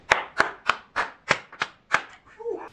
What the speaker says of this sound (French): Je m'applaudis